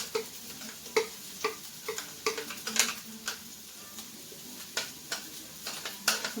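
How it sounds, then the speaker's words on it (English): Butter melting and sizzling faintly in a pot while a steak dinner is cooked, with a soft steady crackle broken by light clicks and taps of a utensil against the pot. "I'm going to throw a tiny bit of butter in there."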